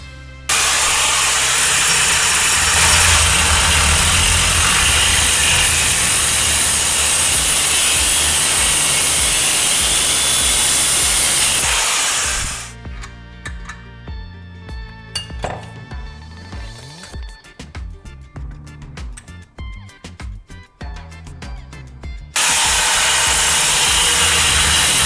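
A power tool cuts through a square metal rod, a loud steady grinding whine that runs for about twelve seconds, then gives way to scattered clinks and handling noises before the cutting resumes at full volume.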